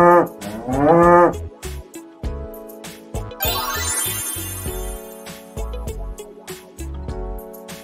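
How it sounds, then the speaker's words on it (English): A cow gives a loud, drawn-out moo up close, then a musical jingle plays over a short second moo. "Cow."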